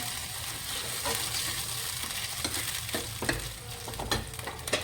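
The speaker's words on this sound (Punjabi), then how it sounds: "ਤੇ ਹੁਣ ਆਪਾਂ ਨਾ ਚੰਗੀ ਤਰ੍ਹਾਂ ਇਹਨੂੰ ਮਿਕਸ ਕਰ ਦਿੰਨੇ ਆ" Saag (mustard greens) being stirred in a pan while tempering, a steady sizzle and fry under repeated scraping, clinking strokes of the spoon, close and alone.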